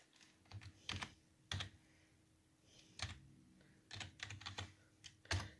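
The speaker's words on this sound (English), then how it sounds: "So you could just start typing in your assembly." Typing on a computer keyboard while entering assembly code in MS-DOS DEBUG, irregular clusters of quiet key clacks with pauses between bursts, close and fairly faint.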